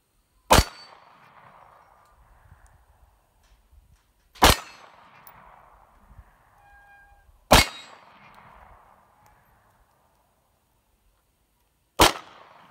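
A Glock 26 pistol fires four sharp single shots at a shooting range, spaced a few seconds apart, each crack followed by a short ringing decay with no talking.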